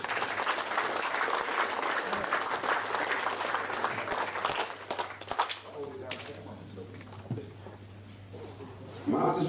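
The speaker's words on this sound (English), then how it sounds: "Ladies and gentlemen, a big round of applause for the runners-up from Victoria." An audience at the 2015 AEBF Nationals Masters Teams final claps loudly for the runners-up from Victoria, a dense burst of applause lasting several seconds before thinning into scattered claps and murmuring voices.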